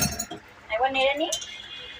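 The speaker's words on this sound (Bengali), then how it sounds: "একবার নেড়ে নিই" Stirring onion-potato curry in a metal cooking pot gives a quick burst of clinking utensil scrapes against the pan, close and clear, with a voice talking around it.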